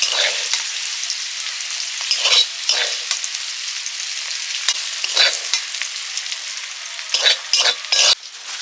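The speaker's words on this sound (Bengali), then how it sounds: "ভাজাটাও হয়ে গেছে সজনে ফুল আলু পোস্ত দিয়ে ভাজা" Drumstick flowers fry with potato and poppy seeds in a hot pan, giving a steady close sizzle broken by several louder bursts of stirring and scraping, with no voices.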